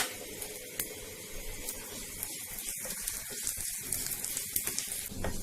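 Urad dal and cumin seeds fry in hot oil for a raw tamarind pickle, making a dense, continuous crackling sizzle close by, fairly quiet and with no talking.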